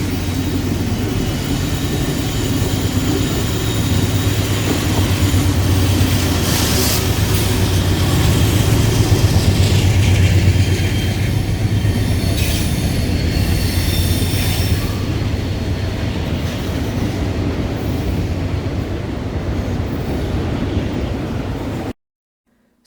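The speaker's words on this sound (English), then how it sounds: "AC-44C6M NS-4390 and SD70AHs NS-1028 leading this intermodal train from Croxton, New Jersey to Rossville, Tennessee" Norfolk Southern AC44C6M NS 4390 and SD70AH NS 1028 locomotives leading an intermodal freight train past Decatur, Alabama, with a loud, continuous rumble of engines and rolling wagons, wheels squealing at times, before the sound cuts off abruptly.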